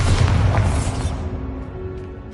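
Bombarda blasting spell from Hogwarts Legacy detonating in one loud, deep booming explosion that rumbles out and fades over a couple of seconds, with no talk.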